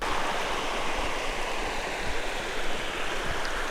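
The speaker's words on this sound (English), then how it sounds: "This is the Amiskwi River" The Amiskwi River rushes steadily along the Great Divide Trail, a dense, continuous roar of flowing water heard close by with no voices over it.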